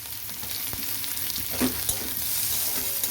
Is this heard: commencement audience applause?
no